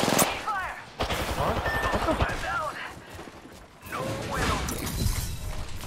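Rapid L-Star energy gunfire in an Apex Legends match, bursts and crashing impacts coming in quick succession under excited talk throughout.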